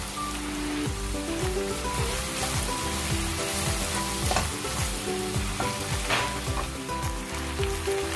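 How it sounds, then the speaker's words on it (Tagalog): Meat frying in a pan for igado ilocano, stirred and browning: a dense, continuous crackling sizzle with scraping stir strokes throughout, close and loud, no voices. "haluin natin yung karne hanggang sa mag-golden brown"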